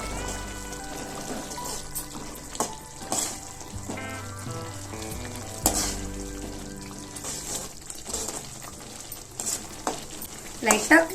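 Tamarind paste for puliyodharai sizzles in a pan while a spoon stirs and scrapes it, with steady frying and a sputter under repeated clinks and scrapes.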